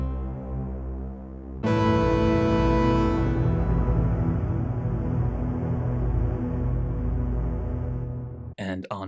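A synth pitched up and run through the Sonicware Texture Lab granular processor in effects mode swells in as a dense, loud, shimmering drone with a grainy flutter, holding steady for several seconds before cutting off.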